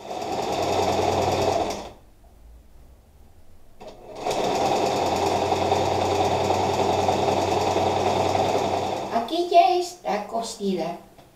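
A sewing machine stitches a baby romper in two steady runs of several seconds each, loud and close, with a short pause between them and a voice chattering briefly at the end.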